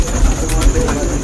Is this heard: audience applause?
no